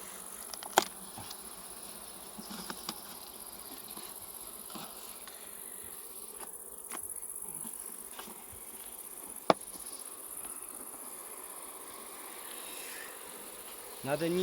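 A steady, low drone of honeybees in a hive hums throughout, with occasional soft clicks and taps close by; no voices.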